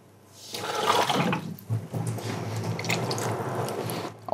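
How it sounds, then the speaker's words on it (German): Water poured from a container into a pan of tomato sauce made with canned chopped tomatoes, a close, continuous liquid pour lasting a few seconds with no talking. "Jetzt ein bisschen Wasser drauf geben."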